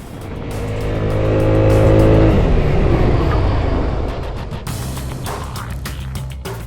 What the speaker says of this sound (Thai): ยางเสียงเครื่องยนต์ตอนเร่งออกเนี่ย มันเร้าใจมาก เสียงดูดอากาศของตัวรถ